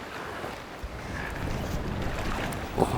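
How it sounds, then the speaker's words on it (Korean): Gentle water lapping near tidal flats between islands, a soft continuous wash with faint wind noise and a small splash near the end, quiet and nearby. "조용한데 물소리가 참 좋네요. 찰랑찰랑 내가 왔습니다 하고"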